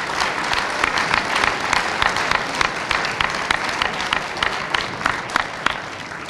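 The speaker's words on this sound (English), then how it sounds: "Faculty, can we give our students another round of applause," Students, faculty and guests at a school event give a sustained round of applause, a steady wash of many hands clapping from a crowd filling the room, with no talking over it.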